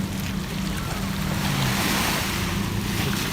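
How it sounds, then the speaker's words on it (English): Waves wash onto a beach as the tide comes in. The surf rumbles and hisses steadily and close by, with wind buffeting the microphone the whole time. "I'm sure the tide is coming in more."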